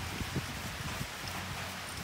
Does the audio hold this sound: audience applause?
no